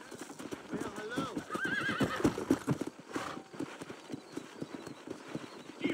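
In the Red Dead Redemption game, horse hooves clip-clop at a walking rhythm with neighs and whinnies, fairly near, while voices talk over them.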